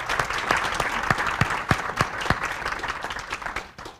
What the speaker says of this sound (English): So a quick round of applause for the Vidal machine.